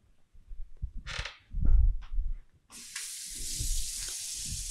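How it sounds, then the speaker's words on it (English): A hot water tap opened at a kitchen sink during a home inspection gives a steady, close hiss of running water after a few cabinet knocks and clicks. "open up the cabinets, and turn on the hot water"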